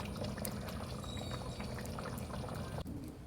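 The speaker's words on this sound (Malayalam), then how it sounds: "നേരത്തെ വേവിച്ച് വെച്ച പരിപ്പ് അതിലേക്ക് ഒഴിക്കാം." Cooked toor dal pours into a thickening pot of sambar, a steady close liquid gush lasting about three seconds before it cuts off abruptly.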